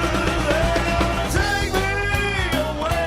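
Rapid snare drum hits played like bongos in a song, quick rolling strokes woven into the full band mix with guitar and other instruments.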